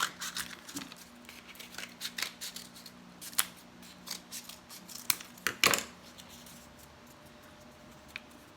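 Scissors cutting cardboard toilet paper rolls into rings, a series of crisp close snips at an uneven pace, some quick and clustered, with soft handling noises between them.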